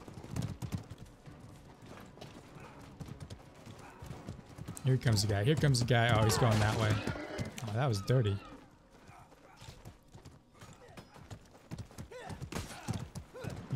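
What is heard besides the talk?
horse hooves clip-clopping in video game Mordhau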